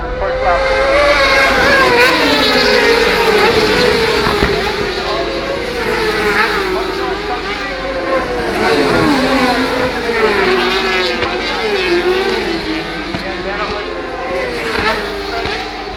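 Racing motorcycles at the 2016 North West 200 road race roar past in a sustained, loud engine drone with rising and falling pitch as bikes sweep by, under continuous commentary.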